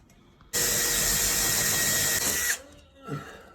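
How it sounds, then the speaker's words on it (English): A power drill pre-drilling screw holes whirs steadily for about two seconds at close range, then stops, followed by a brief lower mechanical whine. "That's where we pre-drill our holes for our screws."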